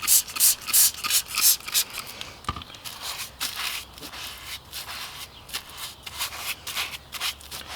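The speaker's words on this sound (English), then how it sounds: "Third thing is to hit that pipe with the Scotch-Brite and get it shining again." Dirt bike exhaust pipe being scrubbed with a Scotch-Brite pad, a steady run of rapid abrasive rubbing strokes close up, with a short pause partway through and no talking.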